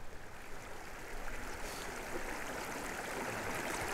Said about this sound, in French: Le bruit de l'eau, t'as vu aussi?